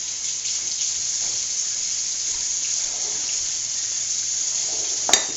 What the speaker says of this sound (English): So I'm just going to rinse my hands.